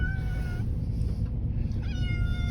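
A cat meows in drawn-out, plaintive cries over the loud low rumble of a moving truck cab, two distinct calls close to the mic.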